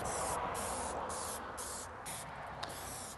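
Plasti Dip rubberized coating sprayed from an aerosol can onto the air inlets of a CFMoto Z950 Sport motorcycle, in several steady hissing bursts with brief pauses between strokes, close and alone.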